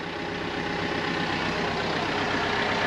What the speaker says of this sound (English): tractor's warming up, grapple's on.